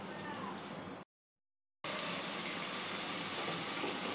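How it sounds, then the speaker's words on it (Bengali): Water gushing steadily from a tap into spiced masala for a katla fish curry, pouring briefly, cutting off for a moment, then pouring again louder and continuous. "তারপরে আমি জল দিয়ে দেব।"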